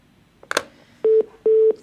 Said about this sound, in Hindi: लग रहा है कि फोन डिस्कनेक्ट हो गया जैन साहब का।